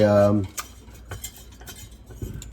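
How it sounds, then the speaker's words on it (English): A whisk stirs a brown sugar mixture in a bowl for chocolate chip cookie dough, giving repeated close clinks and scrapes against the bowl after a brief voice at the start. "I'm just going to mix this until I don't see any lumps at all in here from the brown sugar"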